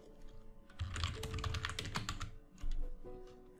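Rapid, close keystrokes clatter on a computer keyboard for about three seconds, a dense continuous run of clicks with a brief lull near the end before a final burst.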